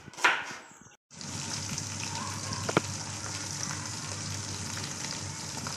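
Chicken fries in a pan with a steady, crackling sizzle that fills the clip after a short burst of handling noise, joined by a single sharp clack partway through.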